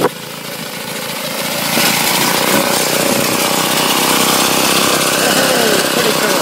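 An old petrol lawn mower engine runs steadily and loudly nearby, its high buzzing drone rising in intensity after the first couple of seconds and then holding constant.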